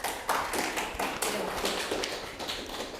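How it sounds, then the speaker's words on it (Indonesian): Participants in a Catholic religious education class clap for group 4, a brief patch of uneven clapping and taps, moderately close and without speech. "tepuk tangan untuk kelompok 4"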